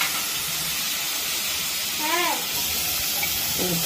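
Onion and garlic fry with mustard seeds in a pan, a steady close hiss and sizzle throughout, with a brief high squeak partway through and a voice speaking near the end.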